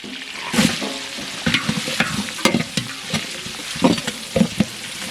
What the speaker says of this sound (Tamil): வெங்காயம் பச்சை மிளகாவெல்லாம் நல்லா வதங்கிடுச்சு